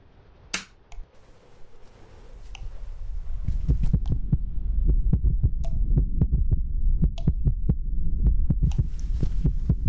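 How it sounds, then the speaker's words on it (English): A heavy, throbbing heartbeat in the horror video game From The Darkness, a low hum building up before loud, regular double thumps pound steadily and close. "Or is this my heartbeat?"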